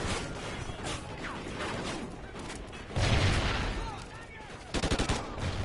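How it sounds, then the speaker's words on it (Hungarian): A video game explosion heard through a 7.1 wireless gaming headset, a sudden loud burst with a deep rumble amid rattling gunfire, followed by further sharp blasts near the end. "Jó hangja volt a robbanásnak, ilyen mély dübörgőt."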